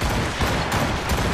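Ship cannons fire in a broadside during a naval battle in the video game Assassin's Creed Rogue, a dense rolling volley of booms that stays loud and continuous, with no speech.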